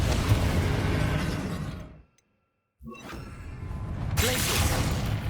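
A Confringo blasting spell cast in the Hogwarts Legacy video game during a final boss fight: a dense roaring burst that cuts abruptly to near silence, then a sharp crackling impact swelling back into sustained loud rumble.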